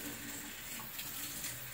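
Water runs and splashes steadily onto a microfiber towel, a continuous trickling wash close by with no talking.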